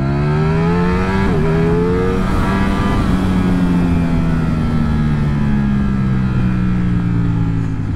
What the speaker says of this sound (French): le bruit de ce V4, il est exceptionnel